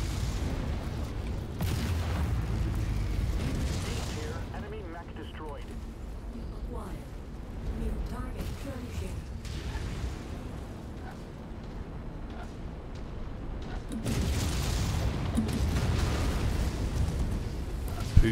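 An enemy mech blows up in the MechWarrior 5 video game, a deep rumbling explosion that swells, fades, then rolls back in, heavy low booms over a continuous battle din.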